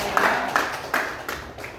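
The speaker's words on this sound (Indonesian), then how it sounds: "Tepuk tangan Bapak Ibu" Audience clapping at an education group gathering, heard as a few rhythmic bursts of hands in a room, moderately loud and fading by the end.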